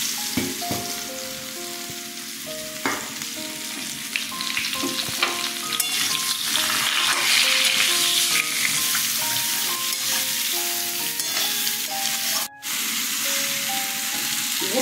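Raw mango pieces hit hot oil tempered with dried red chilies, setting off a loud, continuous sizzle close by with crackling pops and the scrape of stirring, running steadily with one brief drop near the end.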